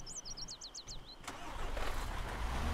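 A big truck's engine starts in the Arma 3 video game: faint bird chirps give way to a click and a low rumble that rises and holds steady and fairly loud.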